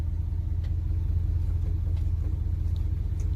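A 1979 Chevy C20 truck, parked since 2005, rumbles low as it starts to move, a steady close engine drone with faint clicks and knocks over it.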